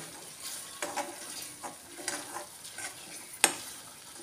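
Ground coriander and cumin sauté in a pan with cardamom, cinnamon, cloves and black pepper paste for a vegetarian jackfruit-and-potato curry. A soft sizzle runs underneath several distinct scraping stirs, with one sharp utensil clink near the end.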